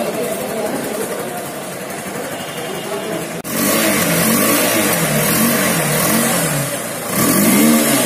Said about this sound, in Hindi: अब सुनते हैं गाड़ी के एग्जॉस्ट साउंड